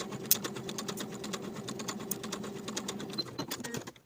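A sewing machine bastes the top of a pocket to the top of a pull-on pant leg with a quarter-inch seam, running in a steady, close, fast patter of stitches with no pauses.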